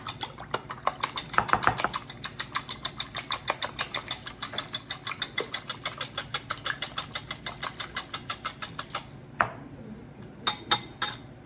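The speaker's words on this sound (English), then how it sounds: "Gonna whisk that up." Rapid, steady mechanical clicking of a whisk beating mozzarella-stick batter in a bowl, loud and regular for about nine seconds, then a brief pause and a few last strokes.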